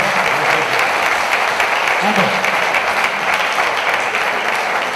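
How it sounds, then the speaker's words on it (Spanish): Warm applause from an audience at a mystery-themed conference talk in Zamora, a steady dense clapping that fills the whole stretch at close, even loudness, with a brief voice murmuring underneath. "pues va un caluroso aplauso para Marcelino Recojo, por favor"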